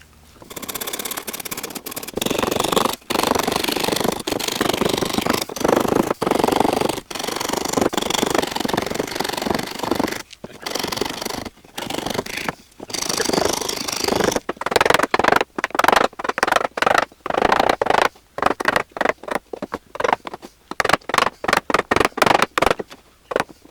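A brand new sharp wood rasp shapes a wooden carving in rough, rapid scraping strokes, loud and close, with brief pauses between bursts of rasping.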